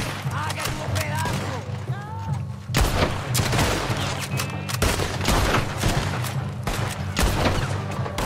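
Blind gunfire in the Red Dead Redemption 2 video game: bursts of gunshots and fusillade cracks, loud and close, scattered irregularly over rumbling game ambience with mechanical clatter.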